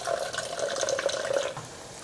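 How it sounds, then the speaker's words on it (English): Kanten (agar) liquid boiling in a pot on the stove for a Japanese anmitsu dessert, a steady close bubbling and gurgling that runs evenly throughout with no talking. "it doesn't need to be a roiling boil, so I'm just going to turn down the heat so that it's at a gentle boil, like a simmer"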